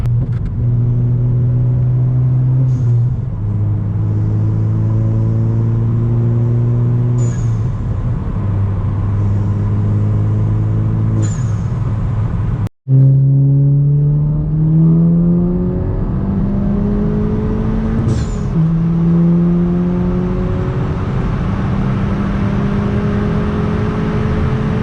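A tuned manual VW Mk8 GTI, Stage 2 on E85, cruises on the highway with a steady engine drone rising through several gear pulls, its pitch climbing and dropping at each shift, with a brief cut midway, loud and close.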